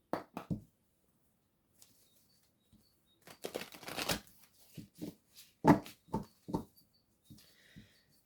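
A deck of chakra oracle cards is shuffled by hand in short papery riffles and flutters, a few quick bursts early, then a longer busier stretch and scattered single flicks, close and fairly quiet with no talking.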